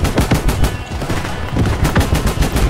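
Gunfire from tanks in Roblox Multicrew Tank Combat 4, rapid rattling bursts of automatic fire, loud and close, with several distinct sharp shots near the end.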